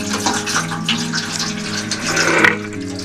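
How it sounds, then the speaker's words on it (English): Water from a hand pump gushes and splashes into a sink for washing dishes in an off-grid home, a steady close flow that swells and eases with each stroke. "You just pump it and the water flows through."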